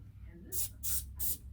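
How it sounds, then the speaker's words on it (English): Three short hissing bursts from an aerosol can of spray adhesive, evenly spaced, close and crisp against a quiet background. "I'm going to take a little spray adhesive"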